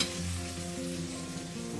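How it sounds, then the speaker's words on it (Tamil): Onion, garlic and curry leaves frying in oil over a medium flame make a dense, continuous close sizzle, steady and even throughout with no voices. "வெங்காய பூண்டெல்லாம் மீடியம் ஃப்ளேம்லேயே"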